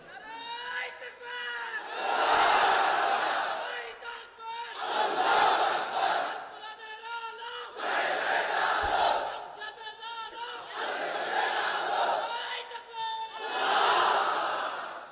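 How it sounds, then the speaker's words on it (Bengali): A large crowd at an Islamic mahfil chants the takbir, Allahu Akbar, in five loud surging waves of massed voices, each swelling and fading with short pauses between. "তাকবীর পড়েন তো দেখি, আল্লাহর নামে পড়েন, লিল্লাহে তাকবীর।"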